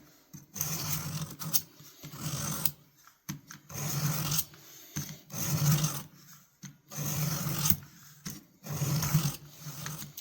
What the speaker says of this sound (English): I'm going to flip the knife over and get that same angle and see if we're getting an edge.